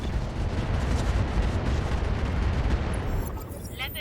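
Weapons fire improved ammunition at a medium military building in RogueTech, a dense continuous rumbling barrage of booming impacts that fades near the end, with a voice briefly heard.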